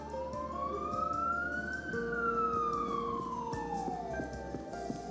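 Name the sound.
ambulance siren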